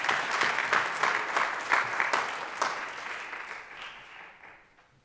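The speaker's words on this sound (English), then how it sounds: "Please give Corey a round of applause" An audience at a university jazz ensemble concert claps steadily for several seconds, a dense wash of applause that gradually thins and fades out toward the end.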